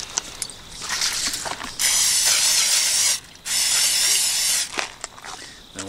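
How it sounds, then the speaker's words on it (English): Two long, steady bursts of cooking spray hiss up close at a campsite, each lasting over a second, with a short pause between them and light clatter around. "spray these down"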